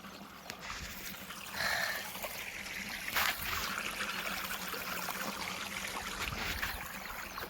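Irrigation water trickles and streams steadily into an alfalfa field beside wheat on a farm, a continuous close gurgling flow with small splashes throughout.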